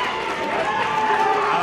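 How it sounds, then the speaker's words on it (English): A wrestling crowd at a live indoor event roars in a steady, dense wash of cheering and shouting, loud and sustained without a break. "Well, the crowd seems to be into it."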